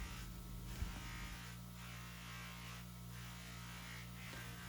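A bench buffing machine runs steadily while a knife blade is polished, giving a constant low electric motor hum with a brief knock near the start and no talk.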